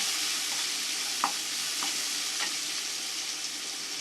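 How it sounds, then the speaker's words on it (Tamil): Chopped onion sautéing and being stirred in a pan for an egg sevai breakfast dish, a steady soft sizzle with a few light scrapes of a spatula, close and fairly quiet, no talking. "அதையும் இதில் சேர்த்துக்கலாம். இதையும் சேர்த்து நல்லா வதக்கிக்கலாம்."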